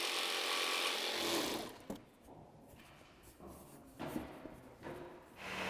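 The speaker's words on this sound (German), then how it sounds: "Darum habe ich jetzt auf die Stichsäge gewechselt und schneide es jetzt gerade noch frei" A jigsaw cutting a window opening into the wall of a camper van, loud buzzing bursts that stop and restart several times with short pauses between cuts.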